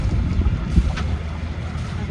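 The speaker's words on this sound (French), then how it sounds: "On est malheureusement toujours au moteur." A sailboat motors under engine power at sea in light wind, sailing close-hauled on a crossing from Menorca to Port Camargue: a steady low engine drone with wind and water noise, and a voice speaking over it.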